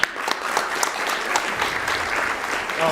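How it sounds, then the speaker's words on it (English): Audience applause breaks out at a live Halo 2 co-op speedrun charity event, a dense, steady clapping from a crowd lasting the full few seconds with no voices clearly on top. "I started clapping too"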